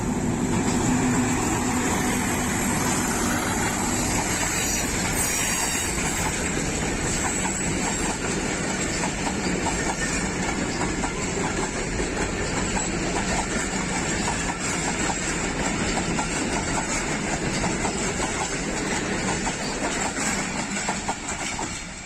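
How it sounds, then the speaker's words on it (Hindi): Pakistan Railways express train hauled by an HBU-20 diesel locomotive in Rawalpindi, a loud continuous rumble of engine and rolling wagons with rhythmic clickety-clack on the rails throughout, close by. "इसका लोकोमोटिव है HBU 20 8054"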